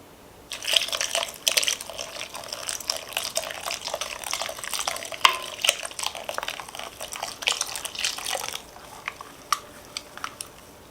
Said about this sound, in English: I'm adding the milk to the corn and the egg.